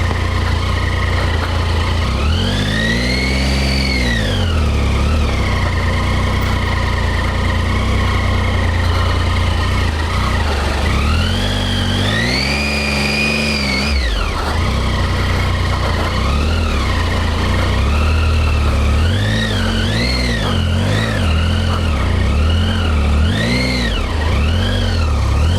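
A motorcycle engine revs loudly and continuously while riding through hot springs, its pitch climbing and falling in repeated swells, close and steady throughout with no talk.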